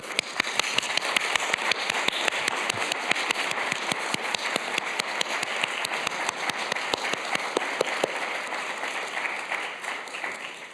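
An audience in a hall gives a steady round of applause, dense overlapping claps sustained for about ten seconds at moderate distance, with little talk.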